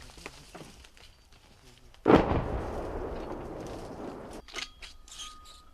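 A single loud mortar shot booms close by, fired by Ukrainian troops near Toretsk, followed by a long rumbling decay; faint movement and a brief voice come before and after.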